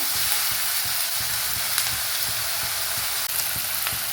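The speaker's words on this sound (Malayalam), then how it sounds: "ഉള്ളി ബ്രൗൺ കളറൊന്നും ആവണ്ട, എന്നാലും നന്നായിട്ടൊന്ന് വാടി വരേണ്ടതുണ്ട്." Onion sautés in a pan until soft, a constant, even sizzle with soft rhythmic scrapes and taps of stirring underneath, no voices.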